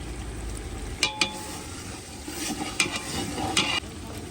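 Onions frying in a pan for a Gujarati oro rotlo meal: a steady low sizzle with several sharp scrapes of a spoon stirring against the pan, close and clear, with no talking.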